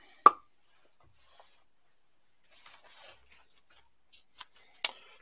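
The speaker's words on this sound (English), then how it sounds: "Using the back side of my 10mm wrench to smooth it out." The back of a 10mm wrench rubbing to smooth shielding inside a vintage Japanese guitar: a sharp click, a quiet pause, then faint, intermittent scratchy strokes up close.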